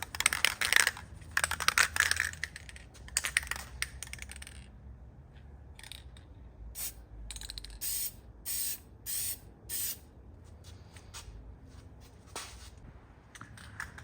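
A spray can sprays HyperDip Shadow Black onto a 2023 Honda CR-V emblem in short close hissing bursts, a longer spray at first, then a series of separate brief puffs with quiet gaps between them.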